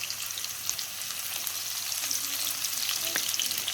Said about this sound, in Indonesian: masukkan bawang merah yang sudah diiris-iris. Kita akan goreng sampai masak kecoklatan.